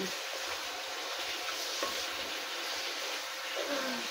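Oil sizzling steadily in a pan while pancit bihon with black pepper is stirred, with faint scrapes of a utensil under the hiss.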